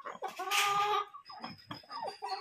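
Farmyard chickens and roosters, including Kadaknath birds, cluck and call on a small farm in the rain, a loud nearby crow-like call followed by scattered clucks close to the listener.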